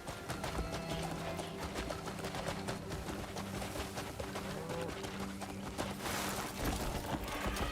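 A galloping horse drums a continuous hoofbeat rhythm over sandy desert terrain in Crimson Desert, steady and near, layered with background game music and faint bird-like chirps.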